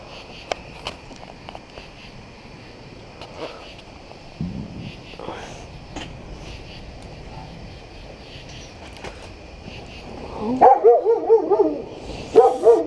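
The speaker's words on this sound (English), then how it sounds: "Quit barking at me." A dog barks in a quick burst of loud, close yips and barks near the end, after a long, fairly quiet stretch with faint rustling and low voices.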